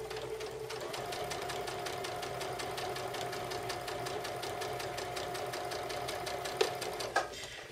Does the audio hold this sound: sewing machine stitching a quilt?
yes